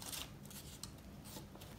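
Paper is folded over during gluing, giving close, crisp crinkling and rustling in short scratchy bursts with no voices.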